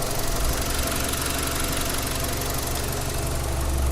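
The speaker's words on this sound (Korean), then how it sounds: "엔진음 한번 들려드릴 건데" A BMW 320i car engine idles steadily up close under the open hood, a constant rumbling hum with a faint rhythmic knock, no voices.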